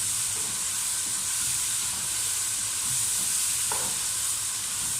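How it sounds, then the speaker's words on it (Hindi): Boiled chickpeas frying and being stirred in a pan with whole chillies over medium-low heat for chana pulao, a steady soft sizzle and hiss throughout with a faint scrape of a spoon partway. "चने डालकर मैंने 2 से 3 मिनट अच्छी तरह भून लिया है"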